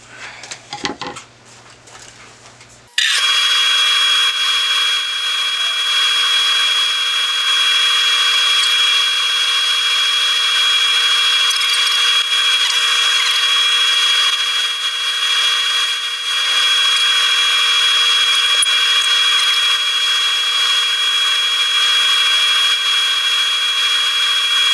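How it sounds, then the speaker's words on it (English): A power sander works the inside of a beech wood bowl at 400 grit, a steady high whine that starts abruptly after a few seconds of quiet handling noise and holds level to the end. "Alright, we are sanded to 400 on the inside now."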